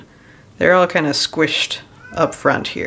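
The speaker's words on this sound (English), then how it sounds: "you can hear my cat in the background because he's grumpy" A grumpy cat meows in the background, a faint tonal cry at the start, before close, clear speech takes over the rest of the moment.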